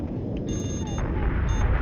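Missiles striking in a video game, a loud rumbling roar of impacts and blasts that fills the brief moment, with a few faint tones above it.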